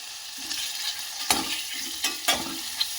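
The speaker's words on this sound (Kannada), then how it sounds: "ಸ್ವಲ್ಪ ಬ್ರೌನ್ ಕಲರ್ ಬರೋವರೆಗೂ ಫ್ರೈ ಮಾಡೋಣ" Paneer cubes fry in a pan with a steady sizzle, broken by a few sharp scrapes and taps as the pieces are turned.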